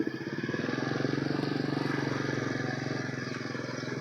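A motorcycle moves off and shifts gear, its engine a steady, close, pulsing putter that holds at an even level throughout.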